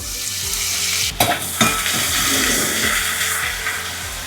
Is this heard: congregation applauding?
no